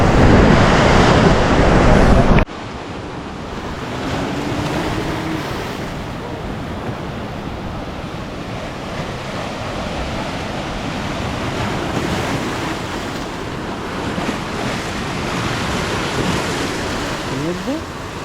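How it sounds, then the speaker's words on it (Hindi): Ocean waves at Visakhapatnam surge and wash continuously with buffeting wind noise on the microphone; a louder roaring burst opens before settling into steady surf. "मैं आप सभी को दिखाना चाहूँगा कि ये लहर कैसा होता है"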